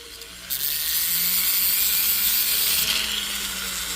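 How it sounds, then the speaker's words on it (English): Metal file rasping steadily along the sides of a ring being resized, a continuous close scraping stroke that swells loud after a quiet start and runs for a few seconds with no talking. "We're just filing the sides down right now."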